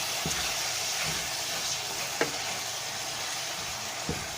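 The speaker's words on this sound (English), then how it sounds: "At this point, you add your greens. And stir very well." Greens being stirred into a hot, sizzling pot of Ugandan katogo give a steady, even hiss, broken by a few faint clicks of a utensil against the pot.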